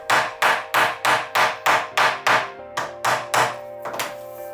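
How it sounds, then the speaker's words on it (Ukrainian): A tiny jeweler's hammer taps H0 scale model railway parts into place, giving about ten sharp, evenly spaced knocks with ringing decay, near and loud, with no talk. "Аби деталі щільно сіли на посадочне місце, додатково їх впресовую молотком."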